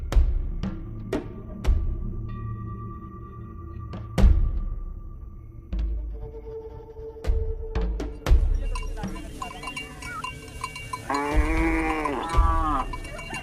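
A herd of about thirty cows in an African boma, with cowbells clanking irregularly and an animal lowing near the end, amid outdoor rural ambience.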